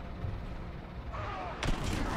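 Gunfire and a booming blast in a Warhammer 40k video game, muffled low thuds under a steady rumble with one sharp louder hit near the end, no clear speech.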